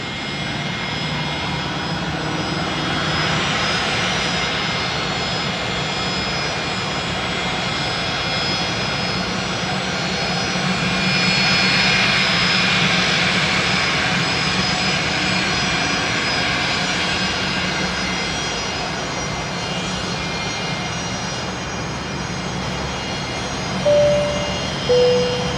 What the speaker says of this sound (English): Singapore 266 is coming over, is it?